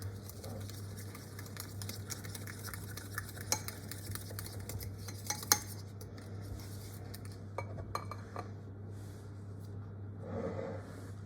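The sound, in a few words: mixing melted butter and sugar in a bowl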